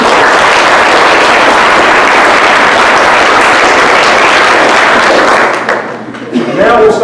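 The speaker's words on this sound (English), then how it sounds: "So just give a round of applause to these kids." Loud, dense applause from the audience at a sheriff's explorers academy graduation ceremony roars steadily for several seconds, then cuts off abruptly as a voice begins speaking.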